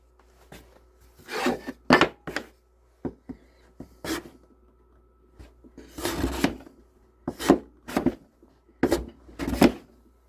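Chisel sharpening in a sharpening jig in a woodshop: bursts of close scraping and rubbing strokes, some long and some short, separated by brief pauses, moderately loud with no talk.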